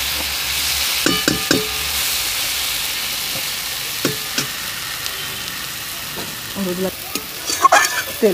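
Ginger, garlic, cumin and chili powder fry in hot oil with a steady close sizzle, broken by several sharp scrapes and clacks of a spatula stirring the pan.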